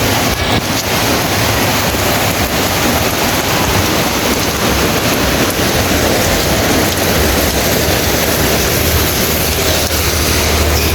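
Heavy rain pours down steadily and loudly at close range, a dense unbroken hiss that swells stronger across the whole stretch with no voices.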